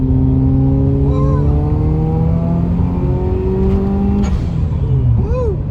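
A 1998 Subaru Impreza WRX STI GC8 engine revs loudly and close up, climbing steadily toward its 8,000 RPM redline with a rising, sustained mechanical note before dropping off briefly near the end.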